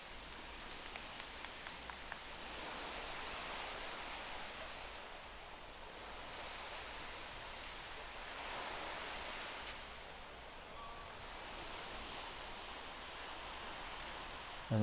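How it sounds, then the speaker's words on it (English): Waves of Lake Michigan wash in as a steady, diffuse rushing surf with soft swells, heard at a distance beside a golf course for about fifteen seconds, with no voices. "And those are the waves of Lake Michigan."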